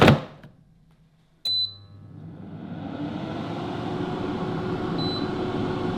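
AI air fryer cooking chips, opening with a sharp click and a short electronic beep, then the fan whirring up into a steady, close, continuous hum.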